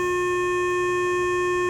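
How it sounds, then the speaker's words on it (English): A synthesized sawtooth-wave tone holds one steady pitch, buzzy and rich in overtones, sounding continuously and evenly loud throughout with nothing else audible. "So here's a sawtooth wave,"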